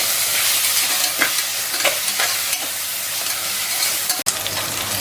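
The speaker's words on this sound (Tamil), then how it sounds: "பச்சை மிளகாய் போட்டுடலாம். அது கூடவே வந்து இஞ்சி பூண்டு பேஸ்ட்டு போட்டுருக்கேன். நல்லா வதக்கிக்கோங்க." Green chillies and ginger garlic paste sautéing in a pan for mutton biryani, a constant loud sizzle with irregular scraping strokes of stirring and one sharp knock near the end, close up with no voices.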